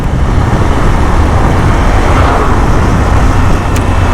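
Heavy traffic roars along a wide highway on the Dhaka road, heard from a moving motorcycle as a loud constant wash of engine and wind noise with no voices.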